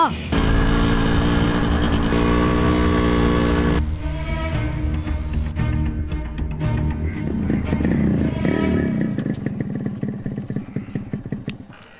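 A motorcycle engine runs loud and close, idling steadily before revving and pulling away in a scene from a Tamil film, with the engine noise continuing as it rides.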